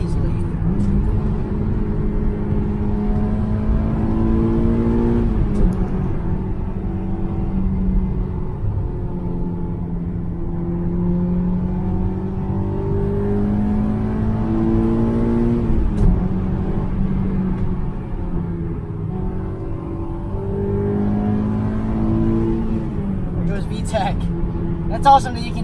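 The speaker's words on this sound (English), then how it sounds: "you can hear the VTEC crack in these cars as well, on these F-Series motors" Honda S2000 AP1 with its F-Series engine revving hard on track, a steady loud drone rising and falling in pitch through repeated climbs, heard from inside the car with no talking.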